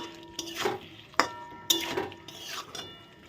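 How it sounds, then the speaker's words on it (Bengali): Cauliflower and potatoes with spices stirred in a pan, a spatula scraping and clinking against the metal in a few sharp strokes over a low background sizzle. "ফুলকপি দিয়ে আমি একদম ভালো করে কষিয়ে নেব"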